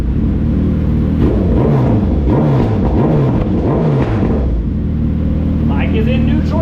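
A Suzuki Hayabusa motorcycle fitted with a two-step revs loudly and close up. The engine note rises and falls in wavering, repeated swells under a constant rumble.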